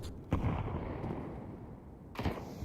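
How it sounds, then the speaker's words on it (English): An HE grenade explodes at a squeaky door in Counter-Strike 2, a muffled low boom amid a rumbling game soundscape, followed by another thud a couple of seconds later, moderately loud with no speech. "Just an HE to open up the squeaky door."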